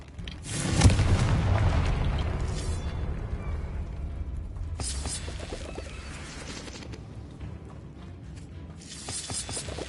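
Confringo blasting spell from Hogwarts Legacy going off as a loud deep explosion with a sharp crack, then a long rumbling decay and a second, softer blast near the end.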